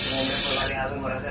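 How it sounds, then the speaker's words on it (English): A loud, steady hiss of an aerosol spray of cooking oil into a waffle maker for about half a second, then it stops, close up. "I like to spray a lot of oil in this."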